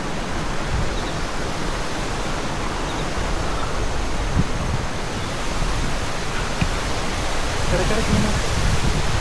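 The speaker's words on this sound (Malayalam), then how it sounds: "ചെറിയ ചെറിയ വെള്ളച്ചാട്ടങ്ങളൊക്കെ ഉണ്ട്" Small monsoon waterfalls on the Harihar Fort trail in Maharashtra pour as a constant broad, loud rush of water that fills the whole stretch without letup.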